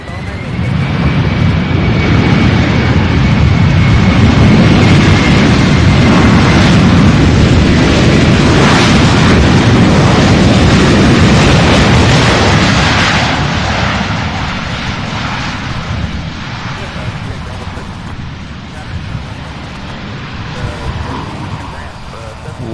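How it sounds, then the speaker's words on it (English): A Boeing 767 jet lands at Louisville International Airport, UPS Worldport, with a loud broad engine roar that builds, holds strong for about fifteen seconds, then fades to a lower rumble as it rolls away. "these 767, some of them are super loud, some of them not so loud"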